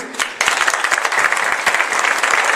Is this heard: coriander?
no